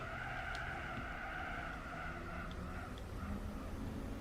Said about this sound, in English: I actually heard the cars on the bridge